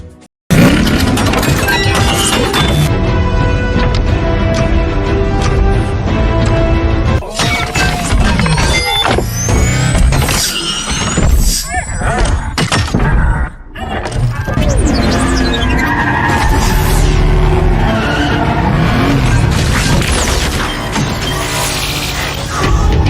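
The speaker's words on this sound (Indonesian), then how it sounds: "Tadi adalah cuplikan film Transformer. Terdapat perubahan bentuk dari mobil ke robot." A Transformers movie scene of a car transforming into a robot: loud, dense metallic clanks, crashes and shattering with whirring mechanisms and a revving engine, continuous and layered with a film score over nearly the whole stretch.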